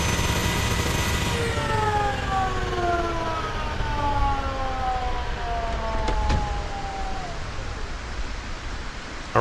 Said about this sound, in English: we have ourselves a helicopter